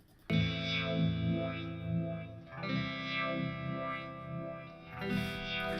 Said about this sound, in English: have a listen to this lightly distorted guitar